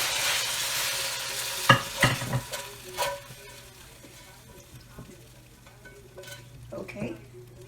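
Carrots fry in a pan for about a minute alongside beef and broccoli, giving a soft steady sizzle with a few sharp stirring clatters early on and lighter scrapes later, no talking.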